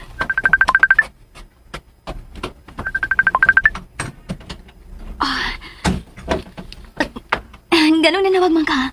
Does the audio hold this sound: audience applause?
no